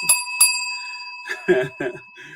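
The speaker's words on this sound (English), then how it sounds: "this is my big word bell" A small bell rings twice in quick succession, bright and close, followed by a voice talking.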